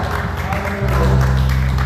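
Church congregation applause rises during a worship service under a low droning background, with a noisy wash of clapping throughout the short moment.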